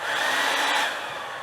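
A hair dryer blows steadily on a polyurethane headliner repair color, loud and close, with a smooth whooshing whine that eases slightly toward the end.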